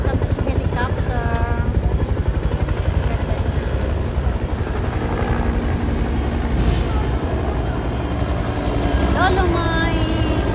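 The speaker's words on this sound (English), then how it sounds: "Ayan, nasa pa si helicopter." A helicopter throbs loudly and steadily overhead at Manila Bay near the dolomite beach, with voices talking faintly beneath its constant rotor noise.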